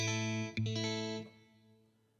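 Electric guitar with compression and EQ, dialed in for a thin funk tone with no delay and some reverb, playing a couple of quick chord stabs that ring and then fade out softly.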